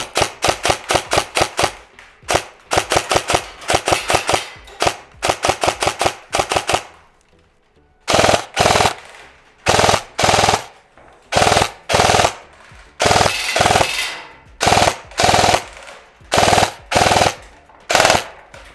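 An airsoft rifle fires BBs in full auto, loud close bursts of rapid even clicks and snaps separated by short silent pauses, with longer, chunkier bursts in the second half.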